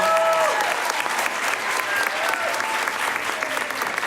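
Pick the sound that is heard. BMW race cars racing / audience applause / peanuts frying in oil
audience applause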